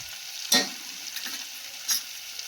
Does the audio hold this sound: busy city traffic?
no